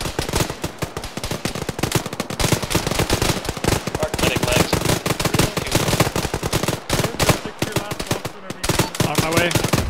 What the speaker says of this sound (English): pick up the suppressing fire